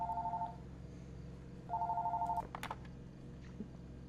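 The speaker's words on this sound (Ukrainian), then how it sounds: "там телефон дзвонить" Telephone ringing in the horror video game Fears to Fathom: two electronic ring bursts, the second longer, followed by a few clicks and bumps, with no voices present.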